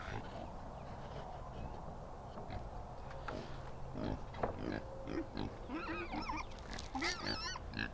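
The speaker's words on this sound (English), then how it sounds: "These are going to be 2 Juliana pigs, little mini pigs." Two Juliana mini pigs snuffle and grunt nearby over steady background noise, with low grunts and squeals growing busier toward the end.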